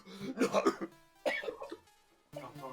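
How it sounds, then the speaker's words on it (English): A man coughs violently, a harsh burst of rapid coughs followed by a second fit and a throat-clearing hack, close and fairly quiet, amid a lively tabletop role-playing session. "He coughs violently."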